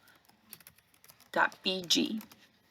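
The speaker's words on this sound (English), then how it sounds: "I'm going to type in remove.bg." Scattered soft clicks of typing on a computer keyboard, entering a web address, close and quiet, followed by a voice speaking briefly over the last keystrokes.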